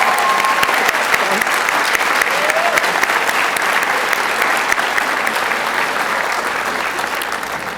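Graduation ceremony audience gives sustained, dense applause for the teachers, a steady roar of many hands clapping from start to finish at fairly even loudness, with no clear voices above it.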